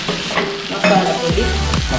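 Chilli, coriander and turmeric powders with pepper stir-fried in a pan for Kerala-style beef roast, loud close sizzling with scraping spoon strokes and clanks.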